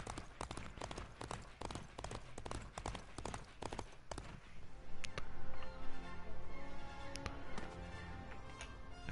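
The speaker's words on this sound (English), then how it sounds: "we've got the Headless Horseman's horse" The Headless Horseman's horse gallops in Disney Infinity, a rapid clatter of hoofbeats that thins into scattered louder knocks and thuds partway through.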